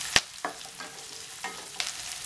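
Onions sizzle softly in a pan, with a few sharp clinks and scrapes of a utensil stirring at irregular intervals.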